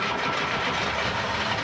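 The engine of La Belle Maria, an old wooden dive-club boat prone to breakdowns, runs as it is restarted, giving a steady, close, rumbling drone with no clear start-up surge and no voices.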